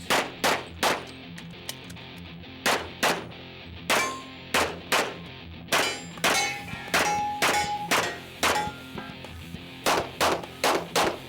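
Pistol shots at a USPSA Limited Nationals shooting match, with a long string of sharp, loud reports in quick bursts and pauses, and ringing clangs of steel targets between them.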